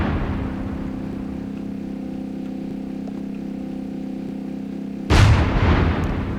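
A Create Aeronautics tank in a video game: a steady low engine rumble runs throughout, then a single loud, sharp cannon blast bursts out near the end and decays into a rumbling tail.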